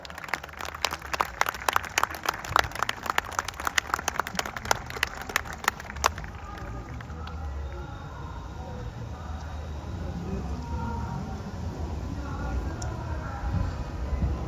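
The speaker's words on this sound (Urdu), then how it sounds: "زوردار تالیاں بجاتے رہیں" Audience at the Jashn-e-Rekhta 2024 poetry festival claps steadily and loudly for several seconds before the applause fades out into a quieter hall.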